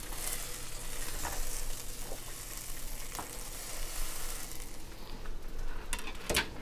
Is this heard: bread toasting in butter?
yes